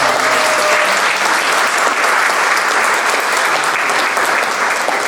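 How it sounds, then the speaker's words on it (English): Sustained applause from an audience at a 2019 Norcross mayoral debate, honoring the Norcross Police Department; dense, steady clapping fills the room evenly throughout, loud and close with no break. "Give the police department a round of applause."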